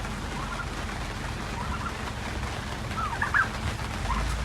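A tom turkey gobbles once, briefly and at a distance, at a creek among other toms and hens of mixed breeds, over a steady hiss of background noise.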